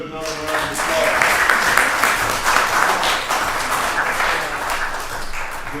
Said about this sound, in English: Let's give the judge another round of applause.